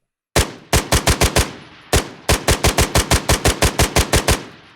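MP7 fire from a Squad video game mod: a quick two-round burst, then a longer rapid automatic string. The shots are close and loud, with no talking.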